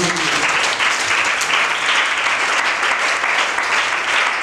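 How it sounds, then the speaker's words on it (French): A church congregation applauding for the Lord, with dense, sustained clapping from many hands at an even loudness and no voice on top. "Acclamez d'abord pour le Seigneur."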